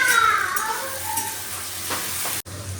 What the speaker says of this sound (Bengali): কাজু কিশমিশটা দিয়ে দিই, একটু ভাজা হতে থাকুক